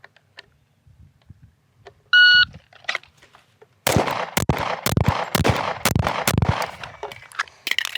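A shot timer beeps once, then a rapid string of sharp, loud Delta 1911 pistol shots follows during a shooting drill, fired in quick succession at close range.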